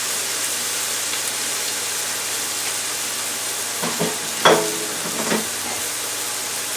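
Pasta and scallions sizzle steadily in a hot pan, and a few clattering stirs and scrapes rise above the constant hiss partway through.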